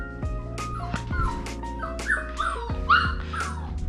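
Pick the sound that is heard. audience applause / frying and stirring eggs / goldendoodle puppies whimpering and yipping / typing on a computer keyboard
goldendoodle puppies whimpering and yipping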